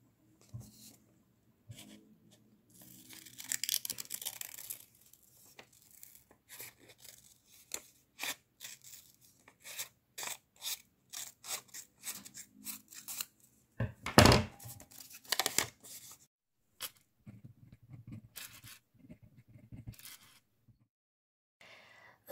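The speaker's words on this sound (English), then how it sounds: "So I'm going to fold them in half and cut them in hearts." Scissors snip through folded paper to cut out heart shapes, producing a series of close, crisp cuts and rustles in irregular bursts with quiet gaps between them and one louder crunch midway, with no talking.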